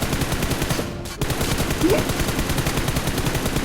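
Rapid video-game gunfire rattles steadily throughout as dense, continuous shooting, with a brief dropout near the middle before the barrage resumes.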